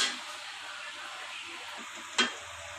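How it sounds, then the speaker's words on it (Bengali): Singara frying in oil while being turned in the pan: an even, close sizzling hiss throughout, with one sharp utensil scrape near the end. "উল্টে উল্টে ভালো করে ভেজে নিতে হবে"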